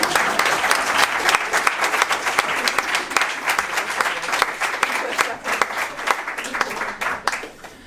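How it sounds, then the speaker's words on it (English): Audience applause for the dancers after a dance performance, a dense, steady wash of many hands clapping that stays loud for the whole stretch and fades slightly toward the end. "Let's maybe give them an applause as well again."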